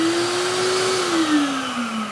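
A DIY remote-controlled garage vacuum runs steadily and fairly loud, a continuous motor whine that dips slightly in pitch toward the end, with no voices.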